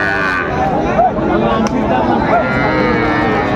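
Cattle lowing at a busy village livestock market where young bulls and heifer calves are sold, a few moos among loud chatter and bargaining voices.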